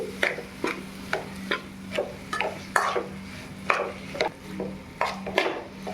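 Potato pani puri stuffing being mixed by hand in a bowl, a regular series of soft thuds and scrapes repeating about twice a second, close and moderately loud with a faint steady hum behind.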